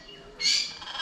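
A parrot at a zoo gives one loud, harsh squawk close by, then a wavering tail that fades, with quiet background before it.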